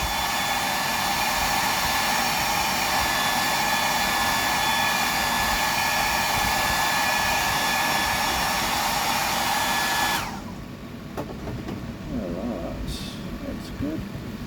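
Hair dryer blowing to cure epoxy on a tied fishing fly, a loud steady whoosh held for about ten seconds before cutting off abruptly, leaving quieter handling noises afterward.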